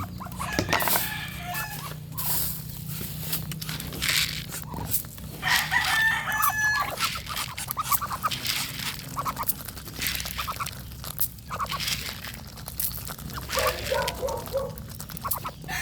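Ducks and chickens crowd around to be fed duck pellets, with a rooster crowing, hens clucking and ducks quacking near and far, plus the crunch and rustle of feeding.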